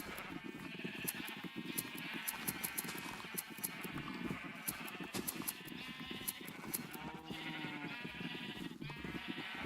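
Minecraft sheep bleat repeatedly in a steady stream of overlapping wavering cries, close and continuous, with clicky shearing and game effects around them and no talking.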